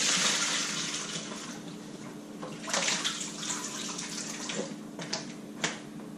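Soaked pho noodles are drained, water rushing and splashing steadily for several seconds, with a few sharper splashes and drips near the end.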